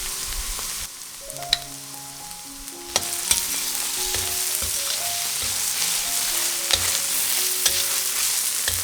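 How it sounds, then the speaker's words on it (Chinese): Kimchi fried rice sizzles and fries in a pan with kimchi juice, punctuated by sharp clanks and scrapes of a spatula stirring, steady and close without any talk. "倒入泡菜汁，炒一炒。"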